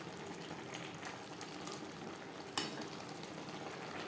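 Jute leaves (pat shak) simmer in a thin gravy in a pan, a faint, steady low sizzle and bubbling with a few soft stirring clicks, quiet and without voices.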